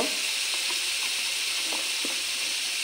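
Spice masala with ginger and turmeric frying in a pan, a loud steady hiss of sizzling oil with faint occasional spatula taps, close up and without talk.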